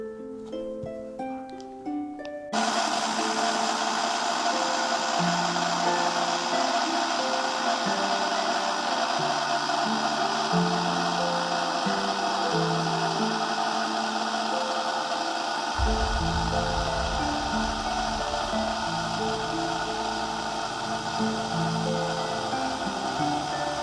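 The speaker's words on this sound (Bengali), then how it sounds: "আমরা আমটাকে ব্লেন্ডার করে নিচ্ছি।" An electric blender purees ripe mango for mango juice: a steady, loud motor whir starts after a brief quiet moment and runs continuously to the end, with background music playing throughout.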